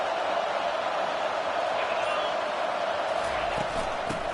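Stadium crowd noise in the College Football 25 video game, a constant dense roar of a large crowd filling the space, steady and fairly loud, with a few faint thuds near the end.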